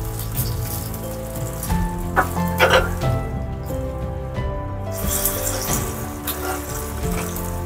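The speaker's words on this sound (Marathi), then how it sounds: "डाळीला मस्त अशी फोडणी देते आहे." Dal tempering (phodni) sizzles and spatters in hot oil, a steady crackling hiss with brief louder pops, close by and continuous.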